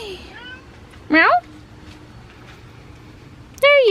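Two short rising-falling cat meows, about three seconds apart, near and clear over a quiet room background.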